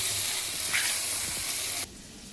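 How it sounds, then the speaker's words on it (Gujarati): Spices hiss and sizzle in hot oil as a tempering for Schezwan soya noodles, a bright steady crackle up close that cuts off abruptly near the end. "આ થાય છે વઘાર"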